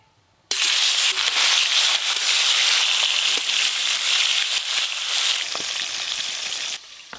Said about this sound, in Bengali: তেল খুব ভালো করে গরম হয়ে গেল। এবার মাছগুলো ভেজে নেব।